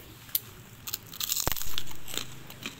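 Kemplang, a Lampung fish cracker, gets bitten: a few sharp, close crunches and crackles, one loud snap near the middle followed by brittle chewing.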